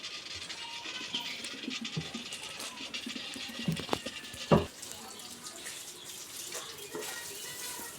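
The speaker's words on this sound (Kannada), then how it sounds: "ಗಾಡಿ ವಾಶ್ ಆಗುತ್ತೆ." Steady running water splashes continuously while a vehicle is washed, with a few brief scraping knocks and bumps partway through, no talking.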